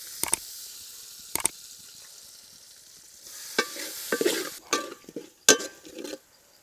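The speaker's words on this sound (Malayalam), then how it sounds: "ഇതിൻ്റെ നെയ്യ് ചേർക്കുകയാണ്" Pork fat going into cooked masala in a pan for Kerala-style pork ularthiyathu: sharp metallic clatters at first, then rising sizzling and scraping as the mixture is stirred.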